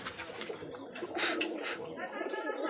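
Pigeons at a Rajshahi Giribaz pigeon farm coo and rustle nearby, with soft bird calls layered over a steady, busy background.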